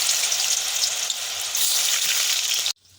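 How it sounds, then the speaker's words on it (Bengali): Prawn muitha dumplings fry in hot oil with a loud, dense, continuous sizzle that cuts off abruptly near the end. "এখন আমি চিংড়ি মাছের ওই মুইঠাগুলোকে এই তেলের মধ্যেই ভেজে নিচ্ছি।"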